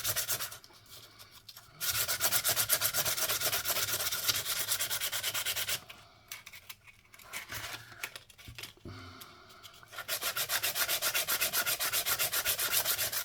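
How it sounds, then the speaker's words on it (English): Sandpaper rubs briskly back and forth along the edge of a twelve-sided threepence coin being made into a ring, a steady close raspy scraping in bursts with brief pauses. "I just want to clean up this edge. I need a new bit of sandpaper."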